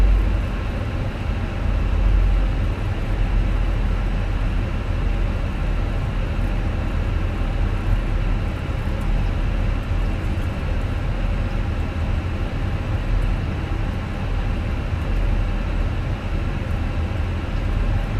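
Airbus A320 jet engines in Microsoft Flight Simulator, a Fenix model, hold a steady low, broadband roar with a deep rumble throughout, continuous and evenly loud as if heard from inside the airliner.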